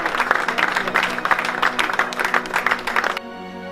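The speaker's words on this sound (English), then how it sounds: "A big round of applause, Dave." An audience applauds a man named Dave for a weight-loss achievement at a football fans' training event, with a dense run of close clapping that stops abruptly near the end.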